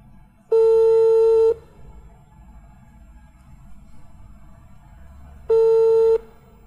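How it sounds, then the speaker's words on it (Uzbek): A telephone ringback on a call being placed, heard as two long, loud, steady electronic tones about five seconds apart, with a quiet low hum between them and no talk. "telefon ursak"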